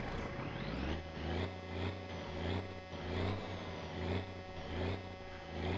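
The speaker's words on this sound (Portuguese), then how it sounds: "O caminhão não quer ligar." A truck in the driving game My Summer Car, its engine cranking and struggling to start in a repeated rhythmic chugging pattern, steady and moderately loud with no talk over it.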